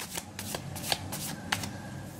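A pile of tarot cards is shuffled by hand, giving a quick series of soft riffling, flapping bursts at close range, fairly quiet and without talk.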